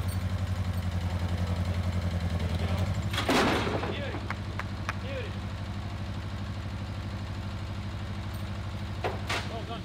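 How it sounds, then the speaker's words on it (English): A tractor engine idles with a low, steady throb, a clattering bang partway through, then the engine keeps chugging on with faint clinks nearby at a wooden boat build. "And then I'll fire up the tractor."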